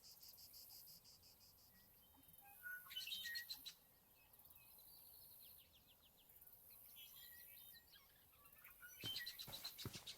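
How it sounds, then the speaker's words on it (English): Birds chirp outdoors in a series of bright, high twittering bursts, loudest near the start and again toward the end, over a steady bed of cricket and insect trilling; no one speaks. "It's most likely the birds then."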